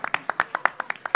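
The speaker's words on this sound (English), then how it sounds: "Round of applause." A small group claps in a quick, uneven rhythm at a live football quiz event, about a dozen sharp, close hand claps in just over a second, with no talk over them.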